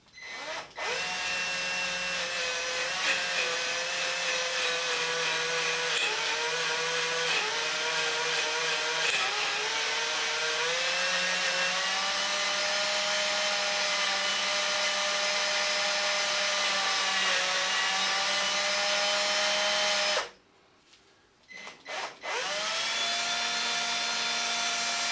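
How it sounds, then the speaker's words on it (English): A power drill with a smaller bit cuts slowly into a grub screw, a continuous whining drone with a shifting pitch that briefly cuts out near the end before starting up again, close and loud. "I'm now going to remove the large drill bit and I'm going to continue with the smaller drill bit."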